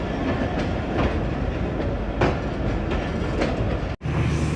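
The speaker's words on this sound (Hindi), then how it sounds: "गुरमानी पहुंच गई जी ट्रेन हमारी।" A passenger train on the ML-2 line pulls into Gurmani station, wheels clicking in a steady rhythmic clatter over a continuous rumble, with a brief dropout near the end.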